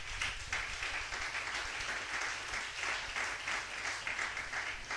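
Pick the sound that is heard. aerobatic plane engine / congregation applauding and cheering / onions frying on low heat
congregation applauding and cheering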